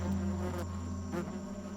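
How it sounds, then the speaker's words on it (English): Parasitic wasp hunting for a caterpillar host, a thin, steady insect buzz drifting in and out at close range over a quiet outdoor background, with no voices. "This wasp is looking for a place to lay her eggs, or rather a foster mom."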